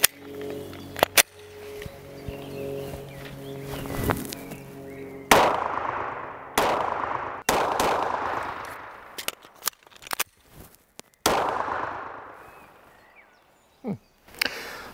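A Glock 19X 9mm pistol is test fired at a range, with a series of sharp, loud shots spaced irregularly, some in quick pairs, each followed by a short ringing decay.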